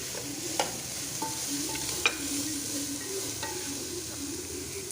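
Cabbage is sautéed with salt in a pan for chicken noodles, giving a constant close sizzle with rhythmic scraping stir strokes and occasional clicks of the spatula.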